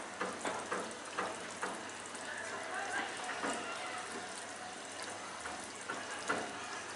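Chicken pieces simmering in their own released juices over a stove flame for tandoori chicken, giving a steady wet bubbling hiss with soft clicks and faint spoon knocks throughout.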